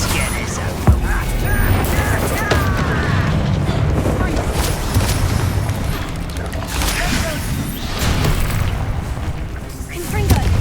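Hogwarts Legacy combat with a Confringo fire spell going off, a dense, continuous rumble of blasts, crackles and impacts filling the whole stretch, with chatter mixed in.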